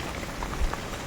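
Heavy monsoon rain falls steadily outdoors, a continuous close hiss of drops with a soft low thump midway.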